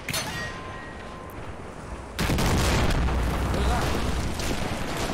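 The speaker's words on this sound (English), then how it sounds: "They're actually firing artillery guns now at like point-blank range at us. That's the only thing that's hitting with that kind of explosion." An artillery gun explodes at point-blank range in Men of War: Assault Squad, during a World War II invasion of the USSR. A sudden loud blast hits midway, followed by a sustained rumbling roar.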